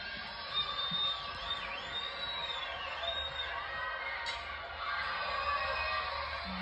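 A large crowd cheers and murmurs steadily in a stadium during a Georgia versus Florida college softball game at Jack Turner Stadium, with distant whoops and whistles rising over a constant wash of noise.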